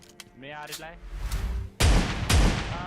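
A shotgun fires in the mobile battle-royale game PUBG Mobile, with two loud, booming blasts about half a second apart that follow quieter game sounds.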